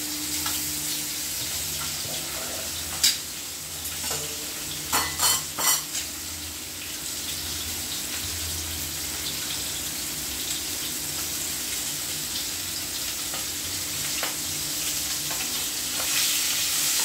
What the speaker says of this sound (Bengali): ভাজা হয়ে গেছে বন্ধুরা, আর খুব বেশি ভাজবো না।